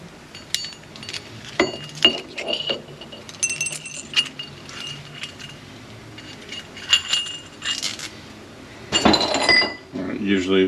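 Small metal parts, half-moon race keepers and bearings, clink and rattle in short irregular bursts as an M7ZA unit is taken apart, with someone talking throughout.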